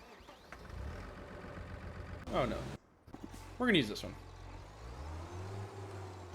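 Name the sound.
tractor engine in Farming Simulator 25 video game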